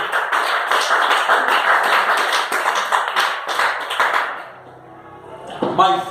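A church congregation at a Pentecostal missions service claps together in a dense, sustained burst that fades after about four seconds, leaving a voice at the end.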